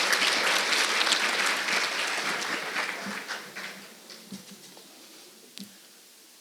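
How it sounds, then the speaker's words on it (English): Warm applause for a teacher at a Teacher of the Year celebration, with dense clapping from a crowd that thins out and fades to scattered claps near the end. "Let's give a warm round of applause for Emily Lamy."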